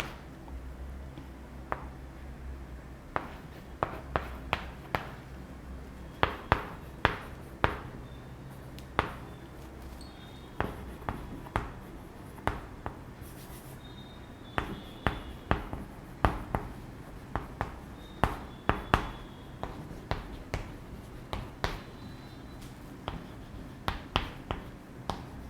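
A teacher writing notes on a board in a classroom, with irregular quiet taps and scratches in uneven bursts across roughly twenty-five seconds and no voices.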